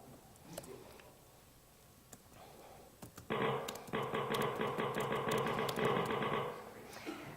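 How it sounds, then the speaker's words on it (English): A Mac laptop running a DTrace program that turns keystrokes into noisy typewriter sound effects: scattered clicks, then a dense, steady run of rapid mechanical clacking lasting about three seconds before it stops. "it turns the laptop into a noisy typewriter"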